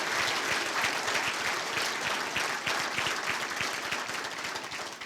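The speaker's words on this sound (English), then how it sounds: "let's give all of our student athletes one more big, resounding round of applause" A banquet hall audience at a university scholarship ring banquet applauds student athletes, a dense sustained crowd of clapping that holds steady and eases slightly toward the end.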